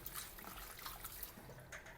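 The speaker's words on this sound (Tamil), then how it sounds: "கட் பண்ணிவிட்டு ஒரு 2 தண்ணியில் நம்ம வாஷ் பண்ணிப்போம்" Small cut pieces of camel meat, about half a kilo, are washed by hand in water, with close sloshing and splashing and trickling from a tap or sink in short, uneven bursts.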